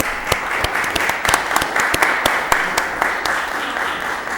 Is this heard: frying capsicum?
no